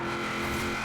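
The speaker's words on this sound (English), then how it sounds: "I do love the meaty sound of really high-powered car" A souped-up, high-powered bubble car engine in the racing game Forza gives a brief loud, sustained steady drone with a dense buzzing tone and no speech.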